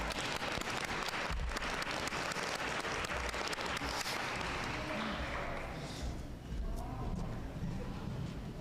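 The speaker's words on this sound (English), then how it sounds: "Let's give them a round of applause." Clapping breaks out for standing executive committee members at a hospital town hall, a continuous, moderately loud wash of hands with some low rumble and murmur mixed in.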